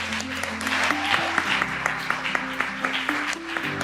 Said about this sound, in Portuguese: É isso, gente, palmas!